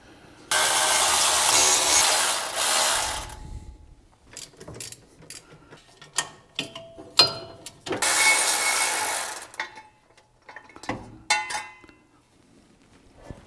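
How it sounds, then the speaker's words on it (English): A ratchet with a 1/2 inch socket loosens the pulley bolts on a Ford F100 during a radiator fan swap, giving long buzzing ratchet runs and separate clicks and metal clinks up close. "So let's go ahead and get these off. We're gonna use a 1/2 inch socket on here."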